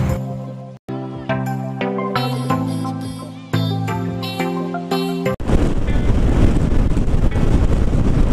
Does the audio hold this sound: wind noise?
yes